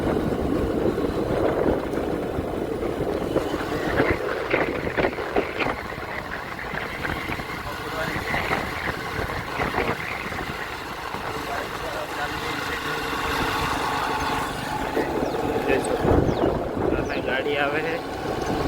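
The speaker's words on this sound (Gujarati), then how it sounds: "મારું બાઇક જઈ રહ્યું છે, જોઈ શકો છો." Motorbike engine running with a continuous rumbling drone and shifting throttle, heard up close outdoors while a person talks over it.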